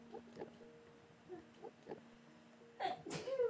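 A single sneeze bursts out near the end, sharp and close, after a stretch of quiet faint tapping and a low hum.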